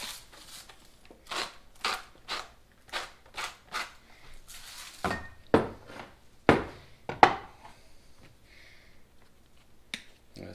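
A salt grinder turned in a series of short crisp clicks and cracks, a dozen or so bursts in uneven rhythm, close and fairly quiet in an otherwise still kitchen.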